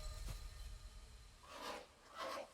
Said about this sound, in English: You have crafted a hammer.